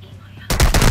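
Gunfire in the video game Call of Duty: Modern Warfare II. A quiet moment breaks into a loud, close burst of rapid automatic shots that packs the last half second.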